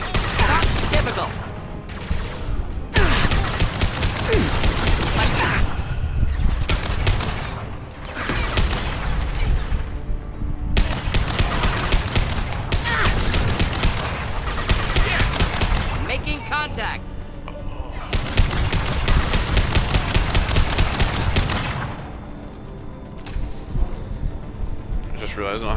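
Gunfire in the video game Mass Effect 2, loud sustained bursts of automatic weapon fire broken by brief pauses, dense and close throughout.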